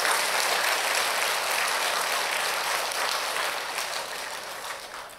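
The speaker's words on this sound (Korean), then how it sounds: "여러분 격려의 박수 한번 해주세요" A church congregation applauding during an early-morning worship service, a dense, even wash of clapping that fades slightly toward the end, with no speech over it.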